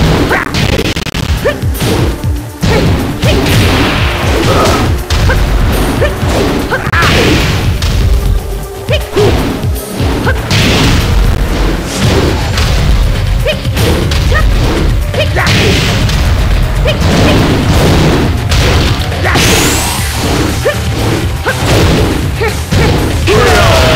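Rapid video game fight effects from Tekken 8, Asuka versus Asuka, with loud continuous whooshes, whip-like strikes, thuds, crashes and booms piling up densely with almost no pause, alongside game music.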